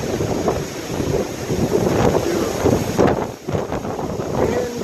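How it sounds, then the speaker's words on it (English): Strong wind on a hilltop at Mount Tammany, New Jersey, buffets the microphone in loud, rumbling gusts that rise and fall continuously. "Windy, windy, windy."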